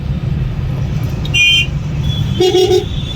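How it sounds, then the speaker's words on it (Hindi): Steady road traffic rumbling at night on the drive from Kanpur to Prayagraj for the Mahakumbh, with two short car horn toots sounding over the engine noise, the second a brighter double honk. "अच्छा खासा ट्रैफिक रात को भी मिलता हुआ।"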